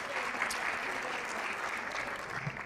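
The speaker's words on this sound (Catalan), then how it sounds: "Un aplaudiment per a Mari Carmen." Steady applause from a crowd at a local awards ceremony, a dense, even wash of clapping at moderate volume from start to finish, with no voices over it.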